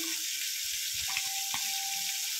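Tempering of mustard seeds, cumin, dried red chillies and chana dal fries in hot oil for a tomato chutney, a close, steady sizzle with small pops and a brief stirring scrape.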